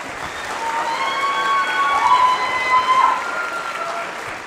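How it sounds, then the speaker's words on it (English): At a school holiday concert, the audience applauds the band and choir kids with steady clapping, while sustained whistling or high tonal cheers ring out over the crowd midway through. "we want to give another round of applause for all the band and choir kids"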